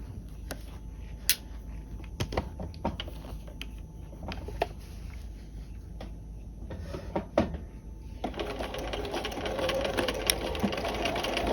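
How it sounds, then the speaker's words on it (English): A sewing machine runs a short, tight stitch on a peplum sleeve cuff, tapping in quick mechanical bursts with a back tack, then settling into a steadier, fuller whirr of continuous sewing toward the end. "Back tack at point A, and we're going to sew to point B."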